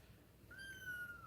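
A kitten gives a single faint, thin meow that rises and holds briefly, heard alone against quiet indoor background hiss.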